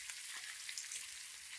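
Asafoetida dropped into hot oil for a starfruit pickle crackles in a dense, continuous sizzle, close and steady with no talking.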